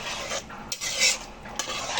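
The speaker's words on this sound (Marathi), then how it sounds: "चांगलं हलक्या हाताने ढवळून घ्यायचं." Rice and water are stirred in a pressure cooker pot, a soft, close scraping swirl with a couple of light clinks of a spoon against the metal, no voices.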